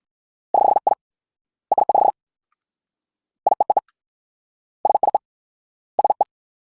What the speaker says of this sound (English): it plays the popping sound.